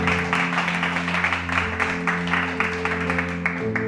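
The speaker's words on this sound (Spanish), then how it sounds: "dale un aplauso al Señor" A congregation at an evangelistic church service claps in a loud, rhythmic unison beat, with sustained musical tones underneath throughout.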